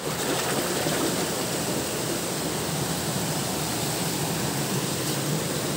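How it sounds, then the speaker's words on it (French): Overflow water pouring back into a river at a surface water intake plant, a steady, loud broadband rush that stays constant throughout with no talking. "le trop-plein, il est déversé pour retourner dans la rivière"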